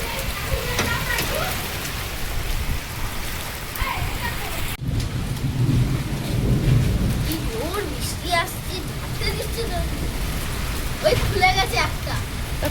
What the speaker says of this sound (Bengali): বাবা কি ঝড় শুরু হয়েছে।